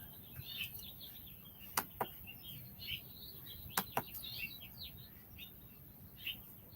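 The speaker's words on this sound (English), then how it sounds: "There's just so many birds." Many birds chirp outdoors near a tiny house, with scattered faint tweets and a few sharper calls standing out over a quiet background hiss.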